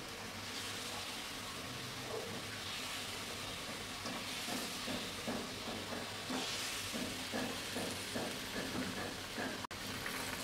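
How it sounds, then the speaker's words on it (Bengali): Fried koi fish go into simmering turmeric water, giving a steady close sizzle and hiss with faint stirring texture, no voices. "এখন ভেজে রাখা মাছগুলো দিয়ে দেবো"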